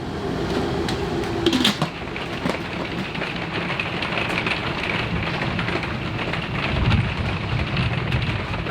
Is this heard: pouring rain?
yes